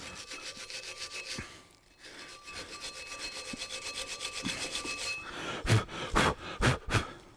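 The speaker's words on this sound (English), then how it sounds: "what I want to do is give this a really good wire brush in there on all 4 sides." A wire brush scrubs hard inside a brake caliper from a 2009 Ford Focus during a pad change, steady rasping strokes building to several louder, sharper scrapes near the end, close and with no talk.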